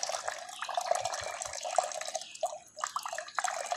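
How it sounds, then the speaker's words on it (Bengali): Water from a motor pump pours and drips into an empty water tank, a steady close splashing trickle with no voices. "এবার দেখুন ট্যাঙ্কিতে জল পড়ছে"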